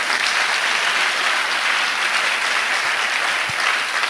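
A church congregation applauds and cheers in praise of the Lord, sustained dense clapping from a large crowd filling the room at steady loudness, with faint voices mixed in.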